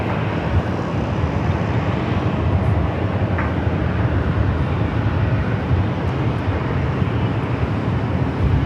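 A jet airliner on approach to runway 24 left at Los Angeles International Airport passes directly overhead, a loud, steady broadband roar that holds for the whole stretch with no voices.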